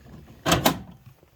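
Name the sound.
drawer of a Snap-on tool cart sliding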